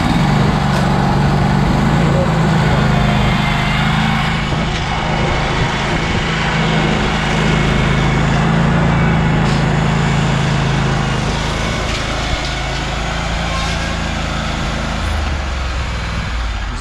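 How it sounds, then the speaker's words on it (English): A Wright Stander commercial stand-on lawn mower engine runs loud and steady at close range, a continuous low droning rumble throughout with no pauses. "But let me put this mower back on the trailer."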